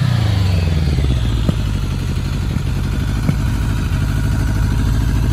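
A Kawasaki GPZ 1100 cafe racer engine idles steadily and slightly fast up close, a loud, even low-pitched chug with faint mechanical clatter and a couple of small ticks.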